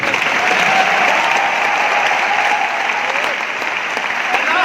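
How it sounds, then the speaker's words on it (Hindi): Sustained, dense applause from a large audience, steady and loud throughout with a few cheers faintly mixed in. "स्टैंडिंग ओवेशन मिल रही है"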